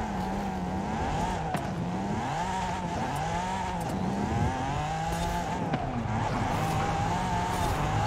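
A drift car in Forza Horizon 5 at FD Seattle, doing a fourth-gear burnout with continuous engine roar and wavering revs under sustained tire squeal.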